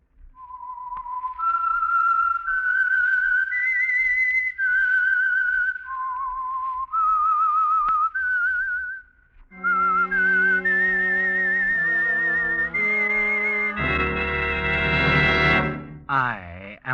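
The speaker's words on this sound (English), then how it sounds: "That whistle is your signal for the Signal Oil Program," A lone whistler carries the eerie theme tune of the radio mystery program The Whistler, a steady melodic line of held and sliding notes that later swells with orchestral accompaniment, loud and close throughout.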